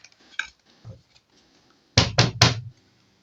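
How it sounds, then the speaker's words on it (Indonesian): Tarot cards being shuffled give a few faint soft rustles, then three loud, close, rapid bursts of cards riffling and tapping together before it falls quiet. "ini saya kocok dulu ya"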